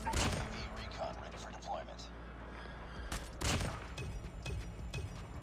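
Shotgun blasts in the mobile video game Call of Duty Mobile, a few loud booming shots separated by pauses over constant background game noise.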